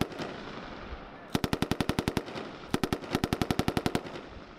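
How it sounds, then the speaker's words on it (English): Machine gun fire at a military training exercise at Camp Geiger: two rapid bursts of sharp, evenly spaced shots, about a dozen each, cutting through faint background noise. "So they had machine guns going"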